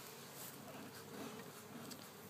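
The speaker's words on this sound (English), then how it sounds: "Go to sleep, little bees." Honeybees buzz steadily and softly in an open beehive, a continuous even drone with no voices.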